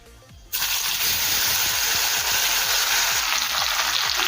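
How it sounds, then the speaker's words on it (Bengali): Marinated mutton for Kolkata-style biryani drops into hot oil and bursts into a loud, sustained sizzle that starts abruptly after a short quiet moment and holds steady and close. "ফোড়নটা ভাজা হয়ে গিয়েছে, এখন দেবো ম্যারিনেটেড মটন।"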